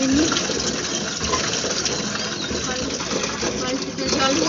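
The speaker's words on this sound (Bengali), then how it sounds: "চলো বালতিতে কল টিপে জল ভরে নিই।" Water gushes steadily from a hand-pumped tap into a bucket, a continuous close splashing fill with a faint rhythmic mechanical pulse from the pump.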